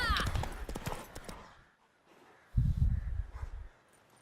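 Hoofbeats of a mare galloping in The Witcher 3: Wild Hunt drum in a rapid clip-clop, break off into a short lull, then return as a second close burst.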